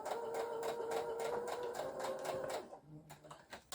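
A domestic sewing machine runs a short forwards-and-backwards securing stitch at the end of a seam, rapid steady mechanical whirring and clatter close by, then a pause with a couple of quieter clicks as it stops.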